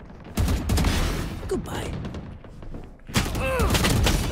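Gunfire in a shooter video game bursts in heavy, rapid volleys with thumps, loud and close, under a brief spoken word.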